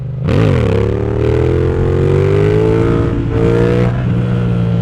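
A 2025 Yamaha MT-07 motorcycle engine revs hard and loud during a wheelie, holding a high steady drone with rising pitch after a quick throttle blip, then easing slightly near the end.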